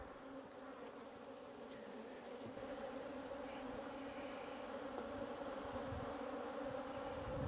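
Honeybees hum around an open production hive during an inspection, a dense, steady buzz with a strong tonal drone and individual bees passing close, no voices present.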